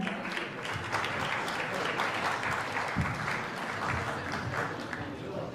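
Sustained audience applause at a recitation contest prize announcement, a dense steady wash of clapping that holds evenly throughout with faint crowd murmur beneath.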